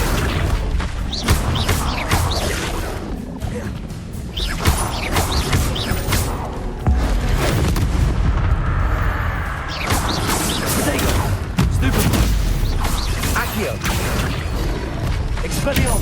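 Spell-casting blasts in the video game Hogwarts Legacy come as dense, repeated booms and crashes in quick succession, with loud magical impacts and combat mechanics throughout, mixed with voices.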